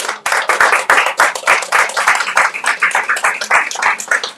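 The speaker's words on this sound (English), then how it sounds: "Another round of applause." Audience applause after an mbira book talk and demonstration, a steady run of close, brisk hand claps from a small group, with no voices over it.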